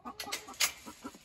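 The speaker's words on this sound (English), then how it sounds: "And there's a hen in here." A hen, likely a silkie, clucks softly in a coop in a short run of about six low, close-up clucks.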